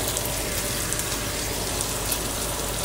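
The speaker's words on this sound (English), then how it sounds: "The first thing I'm going to do is add my onion" Chopped onion dropped into a hot pan of rendered bacon for coq au vin blanc, giving a steady, loud, even sizzle with no pauses throughout.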